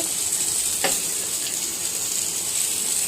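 Green chilies drop into a hot cooking pan, and a steady close-up sizzle of frying fills the scene with a brief clink partway through, with no one talking.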